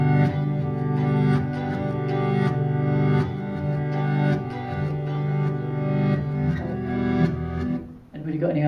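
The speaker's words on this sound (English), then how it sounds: "It's actually a backward guitar." Reversed guitar recording of backward strums, with swelling, reedy sustained chords pulsing in a steady rhythm, sounding effects-laden and dense, loud and continuous before dropping out near the end.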